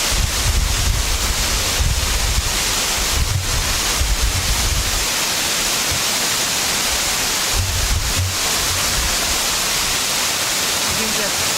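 Water of the Tennessee River in Florence, Alabama, pouring and cascading over rock, a loud continuous roar with wind buffeting the microphone in places.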